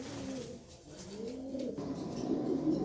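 A pair of imported pigeons, a cock and a hen kept as a breeding pair, coo in soft rolling phrases close by, a steady low warble that swells toward the end with no voices.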